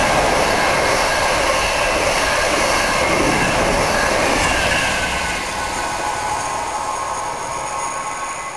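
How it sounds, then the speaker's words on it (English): A London-bound Mark 3 passenger train roars past Needham Market Station at speed, a loud broadband rush of wheels and wind that slowly eases as it moves away. "here comes another London bound Mark 3 set now, about to pass the Needham Market Station."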